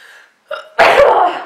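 A single sharp sneeze bursts out close and loud, preceded by a brief intake of breath, after a moment of quiet room tone.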